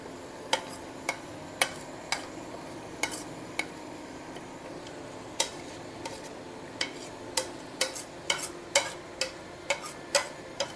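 Leftover spice masala being mixed into meat in a pot, a quiet series of sharp spoon taps and clinks against the pot, coming irregularly and then faster toward the end, with no talk.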